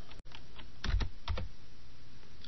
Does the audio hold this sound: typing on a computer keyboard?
yes